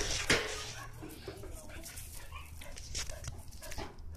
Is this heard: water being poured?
no